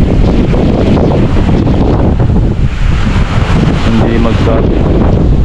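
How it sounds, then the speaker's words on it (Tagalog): Strong super typhoon wind roars and buffets the microphone in loud, constant gusts outdoors among calamansi trees, with no pause through the stretch. "kaganyan kalakas yung hangin"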